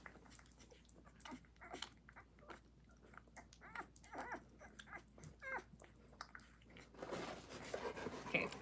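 A small puppy being fed lets out faint whimpers and squeaky mouth sounds with feeding noises, in a quiet room with soft snuffling and a rustle near the end.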